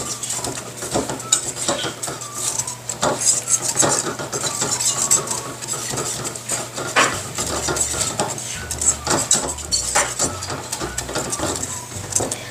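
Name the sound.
mixing dissolved cornstarch into chili ice cream base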